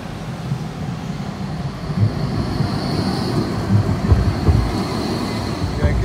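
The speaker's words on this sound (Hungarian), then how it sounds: "Ez az első villamos, amit látunk Resicán." An articulated four-axle Turkish-built tram rumbles past in Reșița, Romania, with a steady low clatter and mechanical drone, a faint whine above it, outdoors with wind noise.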